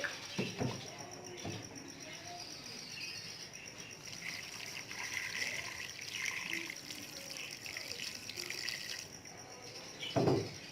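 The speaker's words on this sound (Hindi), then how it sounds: "और इसमें 2 गिलास पानी डाल दूंगी।" Two glasses of water poured into a pot of chicken with garlic paste, onion, turmeric and salt for haleem, giving a faint, steady splashing trickle in a quiet kitchen with no talking.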